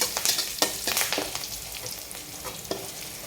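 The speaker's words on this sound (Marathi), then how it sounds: "आपण एवढंच हे मिश्रण परतून घेणार आहे छानपैकी" A spice mixture with asafoetida is stirred and sautéed in a pan, giving a soft sizzle broken by sharp scraping clicks of a utensil against the pan, louder at first and then settling.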